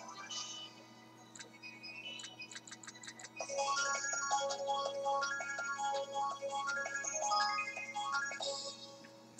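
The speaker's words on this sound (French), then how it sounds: "Pourquoi mon téléphone il sonne?" A mobile phone rings in a casino setting, a faint electronic melody of repeating tonal beeps, sparse and ticking at first, then a denser looping ringtone tune that keeps playing unanswered.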